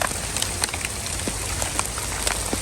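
Steady rain falls outdoors on a farm field during spraying and mowing work, a dense, continuous hiss of drops with scattered sharper pattering hits close by and no talking.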